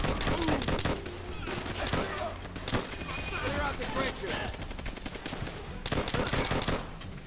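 Rapid M1 rifle fire with a ringing ping during a World War II battle in the shooter game Call of Duty: World at War, loud and dense, mixed with distant explosions and continuous battlefield noise throughout.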